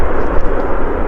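A plane landing at Manchester Airport gives a loud, steady, broadband rumbling roar close by, with no talking.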